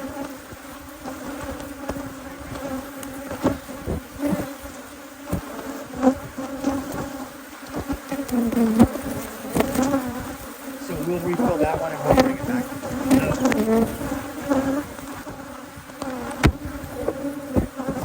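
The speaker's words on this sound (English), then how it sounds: "when you hear them buzzing, it is amazing" Dense buzzing of many honey bees swarming close around a hive, a continuous droning hum with a brief spoken remark partway through.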